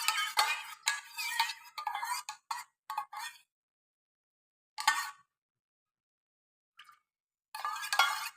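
A spoon stirs coconut oil and lemon juice together in a bowl, giving close, quick clinking and scraping taps in short bursts separated by silent gaps.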